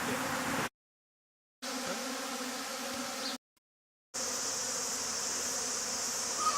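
Honey bees buzz around a hollow tree, a dense continuous hum of many insects heard close up in three stretches broken by two abrupt silent gaps, with no talking.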